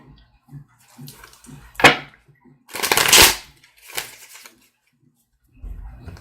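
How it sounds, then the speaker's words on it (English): A deck of playing cards being shuffled by hand, a few soft riffles and flicks followed by louder bursts of cards snapping together, close and with no talking. "Just gonna shuffle them a little bit more now that I have you here."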